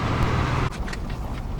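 A car drives offroad along a riverbed in Alaska, its engine and tire rumble steady and close for a brief stretch, with no one talking.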